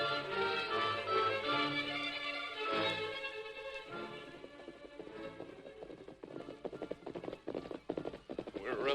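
Horse hooves clip-clop in a rhythmic run of taps under voices and music, growing more distinct toward the end.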